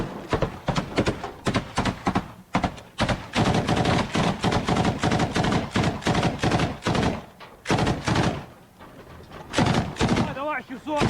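Dense bursts of close gunfire in Ukrainian combat, rapid irregular shots crowding the whole stretch, with shouted voices mixed in and a brief lull near the end.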